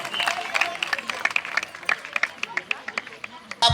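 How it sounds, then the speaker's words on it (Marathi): A school audience claps for a teacher, a burst of quick, scattered hand claps that is close and fairly loud, with light crowd murmur underneath. "तर एकदा जोरदार टाळ्या होऊन जाऊ आपले शिक्षक रवींद्र आंधळे सर."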